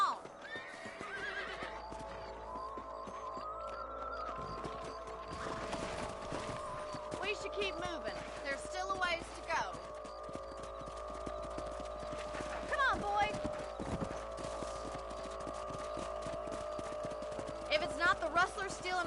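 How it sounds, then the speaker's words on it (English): Horses in Red Dead Redemption whinny and neigh loudly while hooves clip-clop at a walking pace, the whinnies repeating over a low ambient bed with occasional thumps. "Let's get back on the horses and see what else is going on."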